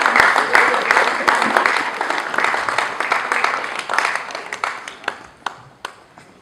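An audience at a 50th birthday celebration claps loudly and steadily. The applause thins into scattered, separate claps toward the end, with voices mixed in.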